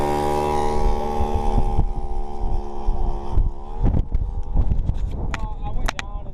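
Yamaha Razz moped engine idling with a steady harmonic buzz that breaks into rougher, irregular sputtering. Wind buffets the microphone, and faint talk sits under the engine.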